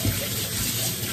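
Water pours and splashes steadily as freshly picked vegetables are washed, a continuous close gushing like a running tap with no break.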